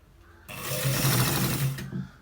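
A sewing machine stitches the end part of a collar shirt, its motor starting abruptly and running in a steady, close, loud whir for about a second and a half before stopping.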